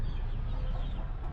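A chicken clucks briefly and softly on a backyard farm where hens are kept and laying eggs, with a low, busy murmur in the background.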